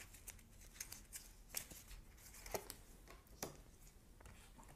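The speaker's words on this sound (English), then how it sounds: "I'm going to also pull an oracle card here" Tarot and oracle cards being shuffled during a reading, a quiet run of crisp riffling flicks and taps, close and alone with no talk.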